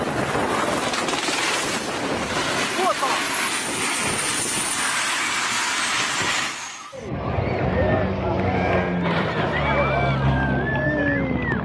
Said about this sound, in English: A landing went horribly wrong at a Fiji resort when a helicopter clipped a tree